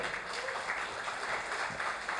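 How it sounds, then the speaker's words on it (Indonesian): Steady, fairly faint applause from an audience at an Indonesian talkshow, greeting senior journalist Panda Nababan with even clapping throughout. "tepuk tangan untuk beliau"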